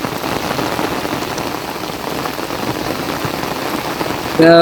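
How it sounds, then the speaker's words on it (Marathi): Steady heavy rain in Konkan farmland, a dense continuous patter on surfaces, near and loud, with a brief voice right at the end. "असा मस्तपैकी पाऊस पडतोय"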